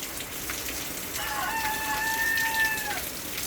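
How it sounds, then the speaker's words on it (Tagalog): Heavy, steady rain after a night-long downpour that has flooded the area, a continuous broadband hiss throughout, with a rooster crowing in the background for a couple of seconds midway. "Lakas ng ulan."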